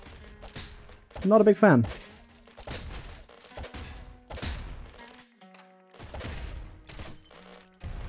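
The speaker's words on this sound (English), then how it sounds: "Auto splinter gun." Auto splinter gun firing in the Nuclear Throne video game, as a run of sharp, repeated game-weapon bursts and thuds that recur through the stretch, with someone talking over them.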